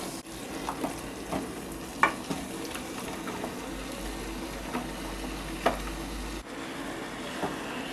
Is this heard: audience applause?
no